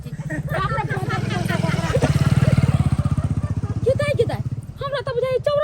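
A motorcycle engine chugs loudly and steadily nearby, idling then revving with a pulsing putter, while voices chatter over it.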